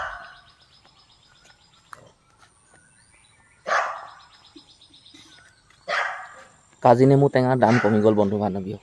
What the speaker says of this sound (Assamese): কুকুৰে দেখি খুব ভুকিছে